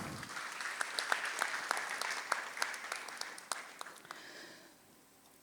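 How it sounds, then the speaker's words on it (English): A modest audience at a public transportation talk gives light, scattered applause with distinct individual claps that taper off into silence before a sudden sound at the end. "So give applause to the achievement of Jakarta."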